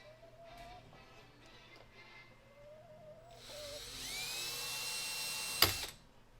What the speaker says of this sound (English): So let's drill some holes for our rivets